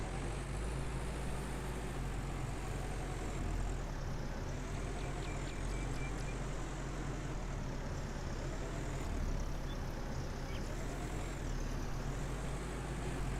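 A tractor engine with a CVT gearbox in the farming game Farmers Dynasty drones steadily and evenly throughout, a low continuous hum with faint high whines drifting above it and no speech.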